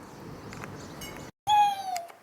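A house cat meows loudly and close, one long drawn-out cry following a shorter, fainter call and a brief moment of silence.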